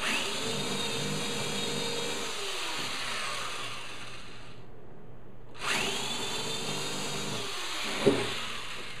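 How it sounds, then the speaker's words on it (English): A power drill with a spade bit grinds steadily into wood, stopping briefly midway before revving up again; close, loud and continuous. "So we'll drill down halfway through this hole."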